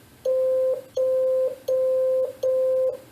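Four evenly spaced Morse code beeps at a slightly lower pitch, each a short, clean steady tone with quiet gaps between them.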